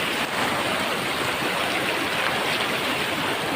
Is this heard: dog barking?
no